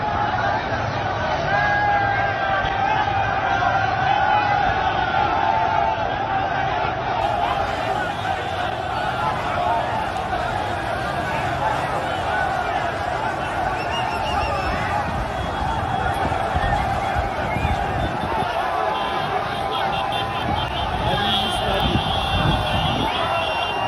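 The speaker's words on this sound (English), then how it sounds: "Look at this video of protesters rushing into the Abuja city center from Nasarawa State." Large crowd of protesters surging into Abuja city center from Nasarawa State, a dense continuous roar of many voices, chatter and movement, steady and loud throughout.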